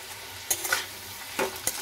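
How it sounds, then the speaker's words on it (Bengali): Potatoes and green chillies fry in a pan with a soft, steady sizzle while a utensil scrapes and stirs in a few quick clicks. "আলুটা কিন্তু এখন ভাজা হয়ে গেছে, কিন্তু আমি আরেকটু কড়কড়া লাল লাল করব"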